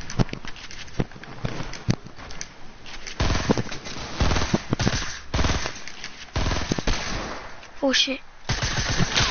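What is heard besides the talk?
gunfire in video game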